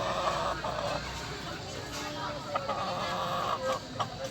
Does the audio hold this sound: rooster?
yes